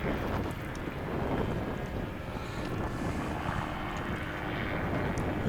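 A STOL aircraft on final approach with flaps deployed at Swamp STOL practice in Jennings, Louisiana: a steady, distant engine drone blended with wind rumble on the microphone, constant throughout, no voices.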